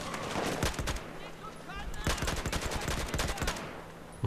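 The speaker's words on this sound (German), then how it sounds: "Habe ich wieder mit dem Kopfschuss gut gemacht." Gunfire in the video game Battlefield 4 during sniper play, with a quick cluster of sharp shots followed by a longer rapid volley, heard over steady in-game background noise.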